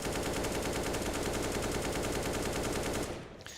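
Sustained automatic gunfire sprays from a video game gun, a dense rapid stream of shots lasting about three seconds before cutting off abruptly, loud and alone.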